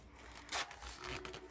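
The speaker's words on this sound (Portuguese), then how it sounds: "Deixa eu abrir aqui o zíper" Zipper opened on a handmade sewn fabric bag, a quick bright rasp followed by softer scraping and fabric handling, fairly close and alone without speech.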